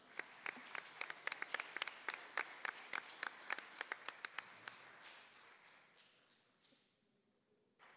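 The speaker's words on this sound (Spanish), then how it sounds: "Les pido un fuerte aplauso." A small audience at an academic panel on media law reform claps in sparse, distinct slaps. The applause fades out after about five seconds, leaving a quiet room.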